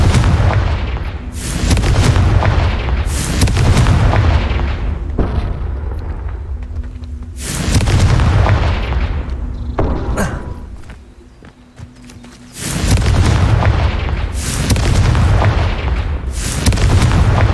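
Confringo spell blasts in Hogwarts Legacy, a series of heavy booming bursts spaced a second or two apart, loud and close, with brief quieter gaps between them.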